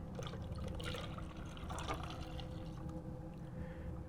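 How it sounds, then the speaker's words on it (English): Transmission fluid from a Ram 3500 Aisin transmission service is poured into a bucket, a steady close liquid pour and splash running continuously without talk. "I'm gonna start pouring in 2 quarts at a time into the bucket"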